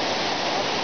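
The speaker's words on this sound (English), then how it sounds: "This waterfall, I guess, drains into the lake and it goes quite far." A waterfall near Lake Toba in the mountains of Sumatra, Indonesia, roars as a steady, loud, unbroken rush of falling water.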